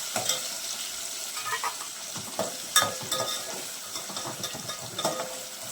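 Chopped onion, green chillies and tomato sizzle steadily in a hot pan, with a soft continuous fry broken by scraping and clinking stirs of a spatula.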